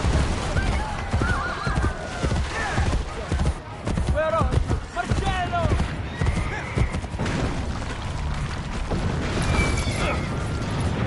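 Horse neighing and whinnying in the Assassin's Creed Brotherhood video game, with repeated clip-clop hooves and busy game action, loud and close, mixed with talk.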